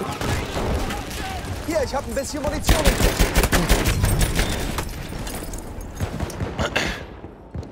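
Bursts of automatic gunfire from the video game Battlefield rattle almost continuously, with people talking over the shooting throughout.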